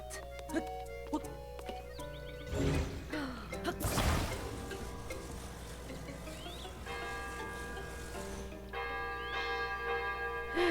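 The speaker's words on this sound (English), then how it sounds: "Can I ring the bell?" A bell rung in the video game Zelda: Tears of the Kingdom, with repeated clanging strikes and ringing tones over game music and effects, fairly loud and sustained across the stretch.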